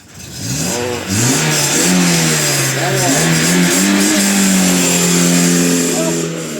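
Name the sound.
car engine revving as the driver accelerates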